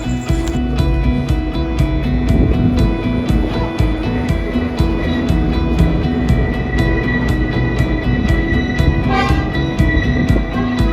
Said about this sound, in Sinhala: කෝච්චිය මේ යන්නේ බදුල්ලේ ඉඳලා අඹේවලට යනකම් විතරයි